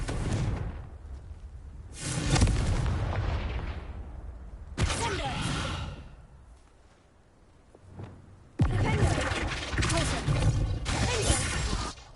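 Spell-casting blasts from the Confringo fire spell in Hogwarts Legacy, bursts of crackling, whooshing explosive noise in several loud waves with brief lulls between them.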